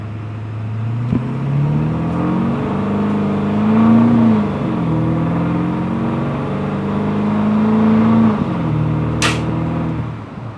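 A 7.3 diesel van running a street shredder tune accelerates uphill, its engine note climbing steadily in two long pulls with a brief dip between, loud and close throughout, with a short sharp hiss near the end.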